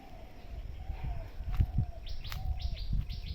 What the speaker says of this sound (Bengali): সব পাখি ডাকছে